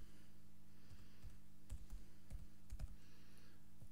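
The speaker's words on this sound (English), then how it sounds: "just so we can actually see what we're typing" A password is typed on a computer keyboard in a quiet room: a few soft, scattered key clicks in short clusters over a low steady hum.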